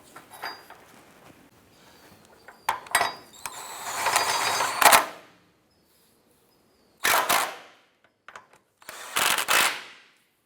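A power tool tightens the front subframe bolts on an Acura TL in a few separate bursts, whirring and rattling up close, with quiet gaps of shop noise between.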